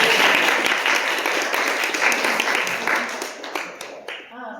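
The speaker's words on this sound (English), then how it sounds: "I'm gonna clap for that." Applause from an audience at a filmmaker forum, with dense clapping that starts loud and thins toward the end, ending in a few scattered claps.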